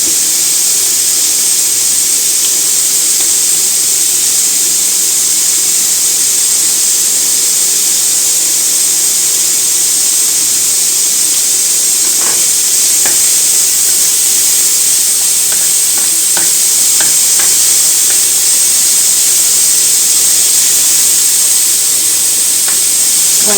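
Lardons and onions fry in a pan with a loud, constant sizzling hiss, with a few soft clicks and pops surfacing near the end.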